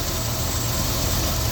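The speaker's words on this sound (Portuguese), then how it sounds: "Esse aqui é um motor V8, quadrijet, carburador automático." Idling 1977 Ford Landau V8 with a four-barrel Quadrajet carburetor, a steady, loud, close low rumble that holds constant with no revving.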